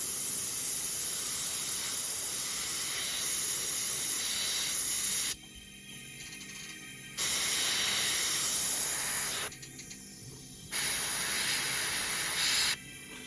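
A steady, close hiss of an airbrush spraying paint onto a 1/48 scale model helicopter, in long bursts, cutting off briefly twice before resuming at the same level.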